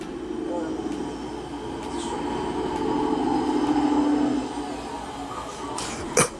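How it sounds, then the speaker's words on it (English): Heavy trucks roll past an outdoor interview, a broad low rumble that swells in the middle and fades toward the end, heard under a voice. "Them damn trucks is fucking up the interview."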